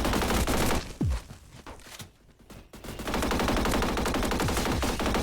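Energy Assault gun firing in a video game: loud, close bursts of rapid automatic fire, a dense rattling stream that stops briefly mid-clip and then resumes as a long sustained volley.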